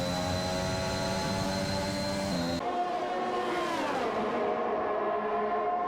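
A Formula 1 Alfa Romeo screams past at racing speed. Its high-pitched engine whine holds steady, then drops sharply in pitch as the car passes and fades away, loud throughout with no talk.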